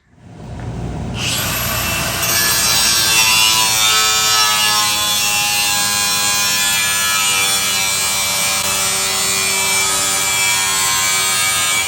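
A power saw cuts through steel angle iron for a shop-built engine cart, starting after a brief quiet moment and then running as a loud, steady, high-pitched metallic grind that holds nearly constant for about ten seconds, with no talking.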